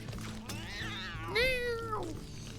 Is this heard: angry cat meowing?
yes